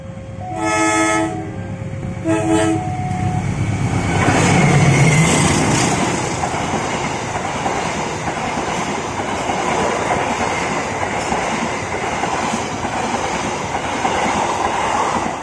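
An Argo Dwipangga passenger train nears a level crossing, giving two loud horn blasts before the cars roll past with a sustained rushing roar and rail clatter that carries on to the end.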